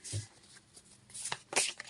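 Tarot cards shuffled close to the microphone: soft papery riffles and flicks in short bursts, quiet overall, with a brief sharper run near the end.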